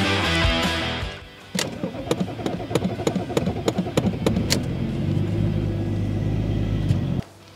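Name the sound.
BMW E34 diesel car cold start, struggling engine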